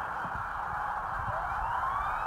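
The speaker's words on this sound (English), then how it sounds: "I thought the sirens blew us off." Police car sirens wail steadily at a distance, a continuous rising and sustained tone over low background rumble, with no talking.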